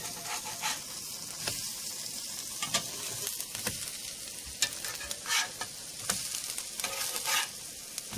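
A buttermilk pancake sizzles steadily on a griddle after being flipped, with continuous close frying hiss and occasional soft spatula taps.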